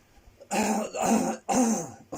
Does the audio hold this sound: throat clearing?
yes